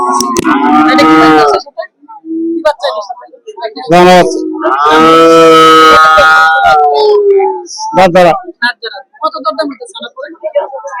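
A crossbred cow moos loudly and close by several times at a cattle market by a ferry ghat, long drawn-out bellows with short gaps between them, and a few fainter calls near the end.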